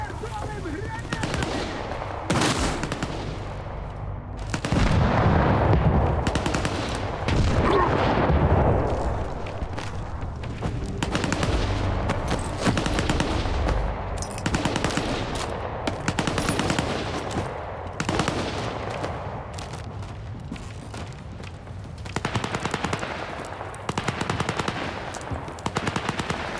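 Rapid automatic gunfire rattles through a firefight in S.T.A.L.K.E.R. 2, long bursts of loud close shots with short pauses, while voices call out over the shooting.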